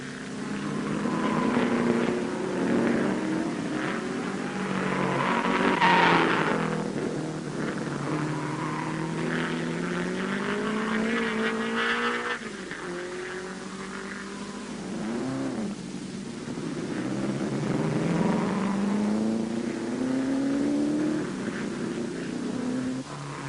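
1955 Formula One racing cars circuit the Zandvoort track at the Dutch Grand Prix, with engines droning and rising in pitch as they accelerate and pass, a loud continuous roar in an old recording.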